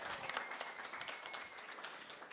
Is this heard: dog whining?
no